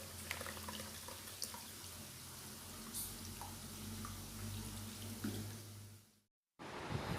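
Tap water running over boiled pasta in a strainer, a steady close hiss and splash that continues, then abruptly cuts out briefly before resuming.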